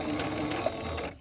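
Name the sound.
sewing machine stitching fabric and paper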